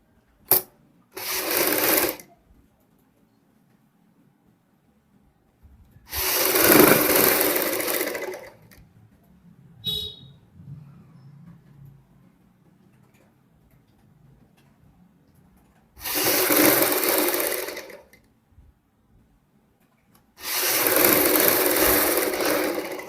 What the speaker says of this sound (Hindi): सिलाई लगाएंगे ऊपर की साइड।